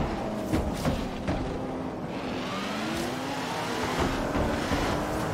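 A Le Mans prototype race car roars steadily in Forza Horizon 3, its engine note rising and shifting through gear changes for several seconds, loud and continuous with no talk.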